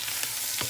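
Ground coriander being stirred into hot oil in a frying pan for spicy roast lamb, giving a brief close sizzle with one or two soft scrapes.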